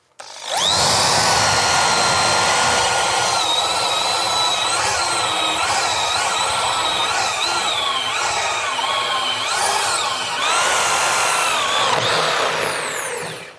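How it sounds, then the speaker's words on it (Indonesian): A Dongcheng DJZ10-10 electric drill drives a 16 mm spade bit into sonokembang wood: a steady, loud high whine with a chewing, grinding texture as the bit bores through, running about twelve seconds after a brief start. "Kita coba bor kipas ke kayu sono kembang. 16 mili ya."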